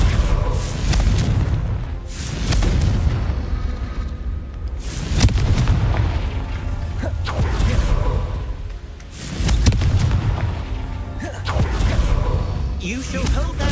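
In Hogwarts Legacy, Confringo blasting spells set off repeated loud booming explosions that roll and rumble one after another in a dense, continuous barrage of in-game combat noise.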